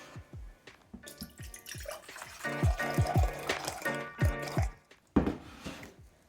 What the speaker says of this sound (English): I'm going to put a cup of the distilled water and then a cup of the vodka